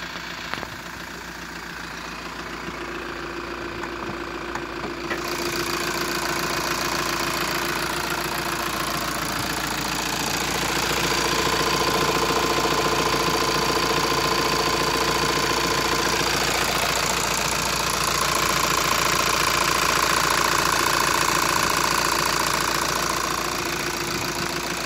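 A Volkswagen T6 van's engine idles steadily and close by for about twenty-five seconds, a continuous low rumble with a faint ticking knock that swells slightly in loudness partway through.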